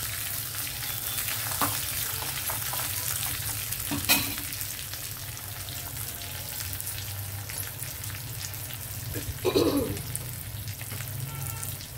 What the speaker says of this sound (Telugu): ఇవన్నీ కొంచెం వేగితే సరిపోతుంది. ఆల్రెడీ వెల్లుల్లి వేగిపోయాయి కదా.